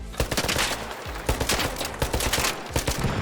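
Rapid bursts of automatic gunfire in the video game Arc Raiders, overlapping shots, loud and close, in a dense continuous stream.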